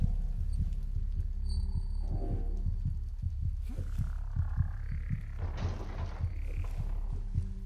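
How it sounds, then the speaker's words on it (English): A slow, steady heartbeat thumps through the video game Among the Sleep, its low regular pulses running the whole way under eerie ambient game sound. "You hear the heartbeat too, right?"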